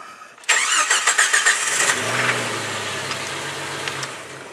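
A Jeep Wrangler YJ engine cranks with a quick run of rhythmic starter pulses, catches, and settles into a steady low idle. It is loud and close, with no talking.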